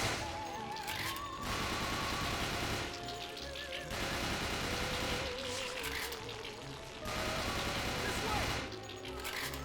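Rapid gunfire in the video game Resident Evil: The Darkside Chronicles, dense bursts of shots in several loud waves with game sounds and voices mixed in.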